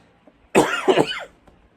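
A single close, harsh cough burst, broken into two or three rough expulsions, in an otherwise quiet room.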